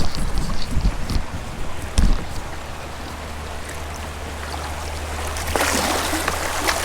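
Fast-running river water on an Ohio river rushes past a kayak in a steady, close wash, with a few splashy bumps early and a brighter splash surge near the end.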